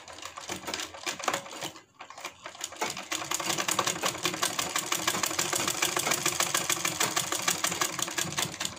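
Sewing machine stitching a kurti seam, a fast steady needle chatter running close and continuous, briefly pausing and restarting before settling into an even rapid rhythm.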